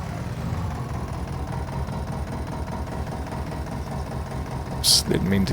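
A farm tractor engine idles nearby in a low, throbbing, even rhythm, with a short sharp clank near the end.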